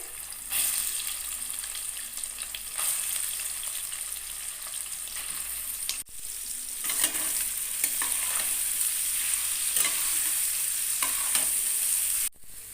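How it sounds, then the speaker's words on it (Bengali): Soybean chunks fry in a pan for soybean pulao, a loud continuous sizzle close by, stirred now and then with scraping spatula strokes and a couple of sharp knocks. "সোয়াবিনগুলোকেও একটু ভেজে নিতে হবে"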